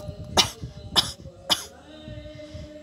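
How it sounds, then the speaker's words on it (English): Three sharp coughs in a row, evenly spaced about half a second apart, close and fairly loud, with a low background rumble continuing underneath. "As he would start coughing more"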